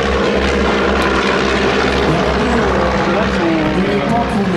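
A Stampe biplane with a small four-cylinder inline Renault engine drones past at a seaplane gathering in Biscarrosse, its propeller engine giving a steady, rough hum. Someone speaks over the engine throughout.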